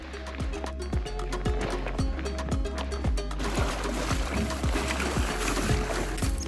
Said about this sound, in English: Now there's a boat.